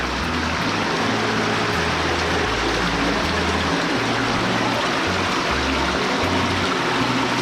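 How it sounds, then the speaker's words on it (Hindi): Water running across a slippery, unlit path at the Khudiya Rani temple in Bagicha, Jashpur, Chhattisgarh, a constant close rushing flow with no pauses. "पूरा पानी रास्ते में पूरा पानी बह रहा है दोस्तों"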